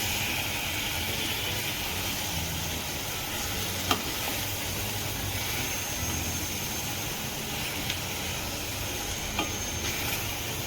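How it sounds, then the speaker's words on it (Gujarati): A Gujarati fenugreek, banana and tomato shaak seasoned with hing is stirred in a hot pan, giving a steady, close sizzle and frying hiss with a few faint clinks of the spoon. "એક વખત પાછું હલાવી કાઢવાનું"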